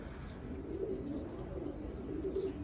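Shialkuti high-flyer pigeons cooing, soft repeated low coos with occasional chirps, close and continuous over a steady background hum.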